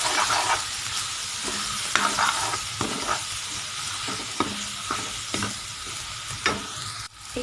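Ground spices are stirred into softened tomatoes frying in hot oil in a pan, giving a loud, steady sizzle broken by repeated scraping strokes of the spoon, close up with no talking.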